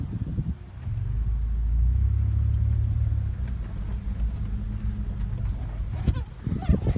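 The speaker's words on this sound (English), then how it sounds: "I'm gonna go ahead and put it in reverse, hit the gas, automatically goes in reverse" Toyota 4Runner put into reverse and given gas, a low engine rumble that swells and holds steady close by, with a voice speaking over parts of it.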